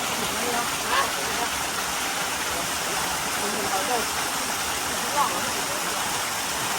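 A waterfall at a swimming and jumping spot near Chiang Mai roars steadily and loudly, a dense unbroken rush of falling water with a few faint splashes and distant voices.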